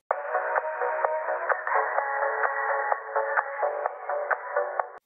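Music filtered to only its mid frequencies, thin and boxy like a small radio, with a repeating rhythmic pattern and no deep bass or sparkle, playing steadily alone.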